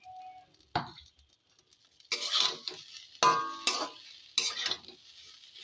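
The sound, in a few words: stirring fried bottle gourd peel in a pan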